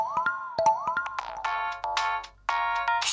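A phone ringtone plays loudly and close, starting with rising electronic boing-like tones, then moving to repeated bright melodic bursts with a short gap near the end.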